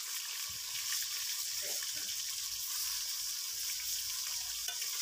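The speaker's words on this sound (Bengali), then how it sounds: "তেল গরম হয়ে গেছে, আমি এক এক করে মাছগুলো ছেড়ে দিচ্ছি।" Shol and taki fish are frying in a generous amount of hot oil, giving a steady, bright sizzle and crackle close by that lasts throughout, with a few soft bumps and stirring sounds.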